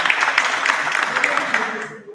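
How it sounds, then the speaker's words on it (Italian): Audience applause at the presentation of a futsal team, a steady dense clatter of many hands clapping for about two seconds before fading out. "Un applauso."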